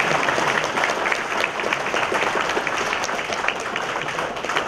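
Dense, steady applause from an audience welcoming the invited guest Kim Ji-ha to a 2012 presidential-election lecture on the nation's direction, a loud, even wash of many hands clapping without a break.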